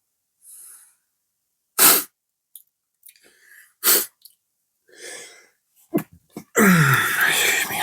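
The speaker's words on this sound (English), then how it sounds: "I'm sneezing all over the place at the moment" Several sharp sneezes burst out between quiet breaths and sniffs, loud and close, with a harsher blast of noise at the end.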